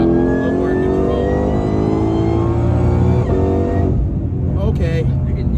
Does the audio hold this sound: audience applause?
no